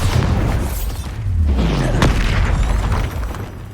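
A Bombarda spell explodes in Hogwarts Legacy, a single loud, deep blast with a falling rumble and a sharp crack near the middle, heard up close with no talking.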